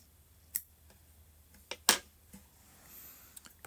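Scissors snip a crochet yarn tail on a granny square, a few sharp close clicks spaced apart in a quiet room, one louder cut near the middle.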